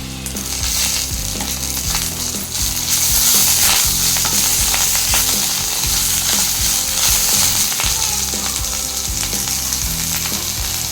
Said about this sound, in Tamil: இப்போ நம்ம இந்த வெத்தலையை போட்டுக்கோங்க.